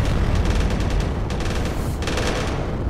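Small arms fire in Space Engineers, a continuous rattling fusillade of rapid gunshots in dense bursts over heavy low rumble, loud and sustained with no talking.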